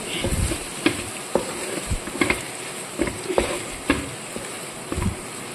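Chicken fries and sizzles in a pan with coriander leaves, a steady hiss broken by a series of sharp scraping clicks as a spoon stirs it at irregular intervals, close by and alone.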